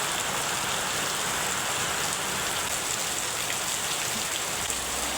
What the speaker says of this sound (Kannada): ಇದು ಮಳೆ ನೀರು ಡೈರೆಕ್ಟ್ ಅದ್ರಾಗ ಬೀಳ್ಬೇಕು